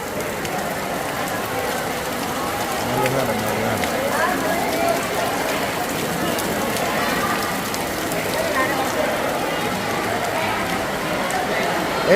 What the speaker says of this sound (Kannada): ಮಳೆ ಬರ್ತಾ ಇದೆ ಮಳೆ